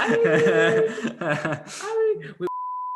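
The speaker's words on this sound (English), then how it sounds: "I'm gonna beep that out." A steady electronic censor beep bleeps out a word, coming right after lively conversation and chuckling between people discussing home fantasy league predictions, then holding as a single flat, loud tone to the end.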